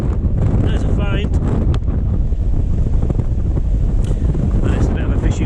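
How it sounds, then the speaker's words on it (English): Strong wind buffets the microphone on a beach during beachcombing, a loud continuous roar with gusty swells and faint surf mixed in, while someone talks over it now and then. "this wind is something else"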